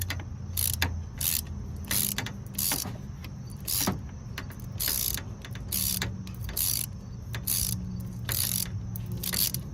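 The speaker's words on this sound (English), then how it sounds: "I'm going to do this closer to the center of the wrench, just so I don't over tighten it" A ratchet wrench tightens AC compressor bolts on a second-generation Honda Insight hybrid, clicking in repeated close bursts of quick ratcheting strokes with short gaps between them.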